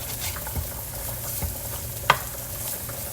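Guanciale fries in a pan as its fat renders, a close, steady sizzle punctuated by a few stirring scrapes and one sharp clack of a utensil against the pan.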